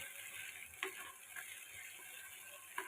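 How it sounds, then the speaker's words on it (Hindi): Chicken and spices, with hand-crushed roasted cumin, being roasted in a pan for an aloo chicken curry give a faint, steady sizzle with a few soft clicks and stirs, no talking. "और अब मैं करूँगी इसकी अच्छे से भुनाई।"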